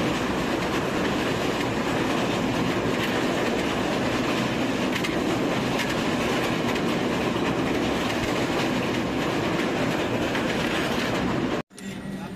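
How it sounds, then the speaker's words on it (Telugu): A passenger train moving through Kottayam station: a loud, close, continuous rumble with rhythmic clickety-clack of wheels on rail joints, then a brief sudden dropout near the end. "మళ్ళీ స్టార్ట్ అవుతుంది ట్రైన్ అయితే"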